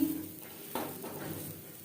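Utensil scraping and stirring turmeric and roasted ground spices in a pan (kadai) with a soft sizzle, a couple of distinct strokes, close by and fairly quiet.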